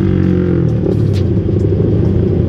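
A Suzuki Satria FU 150 motorcycle engine pulls hard under acceleration, a loud, close rumbling drone with rising tone and no talking.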